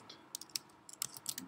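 Code is typed on a computer keyboard in a quick, uneven run of light key clicks, close and quiet with no voices.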